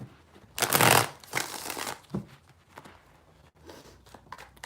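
A deck of cards is shuffled close by in a few quick, papery bursts with quieter riffling between them and no voices.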